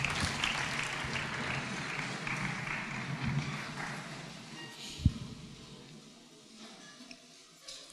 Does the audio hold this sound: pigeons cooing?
no